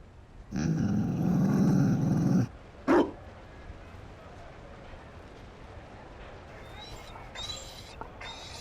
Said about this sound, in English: You found a dog? They don't breed Mabari in Orlais.